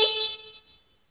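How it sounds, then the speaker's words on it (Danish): The horn of an iCar Plus mobility vehicle sounds once, a short electronic tone that starts loud and close and fades out within about half a second. "Og til sidst har vi hornet."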